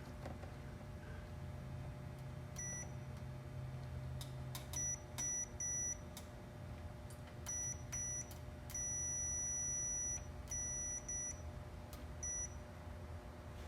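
A multimeter's continuity beeper sounding while trailer wiring is tested, short high beeps and one sustained tone recurring irregularly over a steady low background hum.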